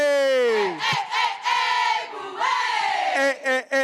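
A crowd of Bowie State supporters shouts a call-and-response cheer in loud, strained unison, delivering several forceful chanted bursts separated by brief pauses.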